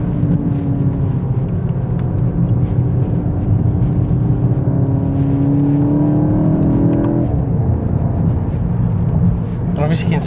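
A car driving on a winding mountain road near the Oman border, the engine note rising steadily as it accelerates, loud and close throughout, with someone talking over it.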